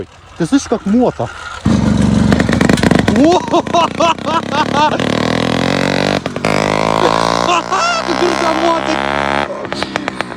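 A small 79 cc F-80 petrol engine fitted to a bicycle revs up loudly with rising, buzzing pitch, close by, its whine climbing and falling through several accelerations, with a voice briefly heard.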